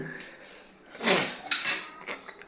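In a home kitchen, a milk container taken from the fridge thuds down hard on the counter with a couple of sharp knocks and light clinks among dishes and utensils, close and fairly loud.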